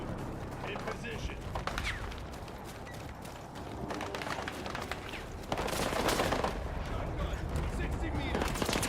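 Machine gun fire in a Battlefield 6 firefight, rapid bursts crackling amid distant explosions and battlefield chaos, with people talking over the shooting throughout.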